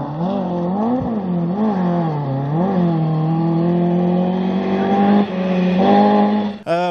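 A Ford Escort rally car on a Mid Wales forest stage, engine loud and close for the whole stretch, revs climbing and falling through gear changes, then a sharp rising rev burst at the end.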